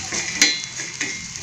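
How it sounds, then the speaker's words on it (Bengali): Dried fish (shutki) fries on a hot tawa with a close, moderate sizzle, broken by a couple of sharp metallic taps as it is stirred, and no one speaks. "এবার আমি শুটকিগুলো দিয়ে দিচ্ছি। শুটকিগুলো ভেজে নেব একটু।"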